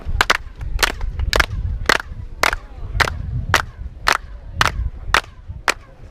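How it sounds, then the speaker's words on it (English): A crowd claps together in unison about ten times, each clap a sharp, loud crack at a steady, unhurried pace over a low murmur of people. "When I say 3, we can clap 10 times"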